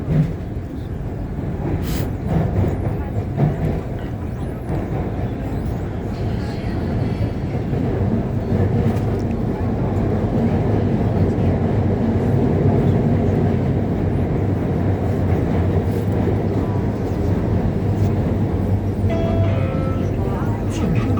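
Guangzhou Metro Line 5 subway train riding, a loud continuous rumble and roar from inside the car over about twenty seconds, with brief clanks and a few faint voices around.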